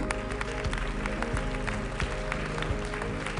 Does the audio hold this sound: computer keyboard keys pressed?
no